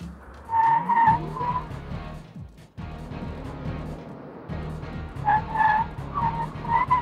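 A 2001 Audi Allroad Quattro with a bi-turbo V6 and S4-derived brakes stopping hard, tires squealing and skidding in two loud bursts over a steady engine drone.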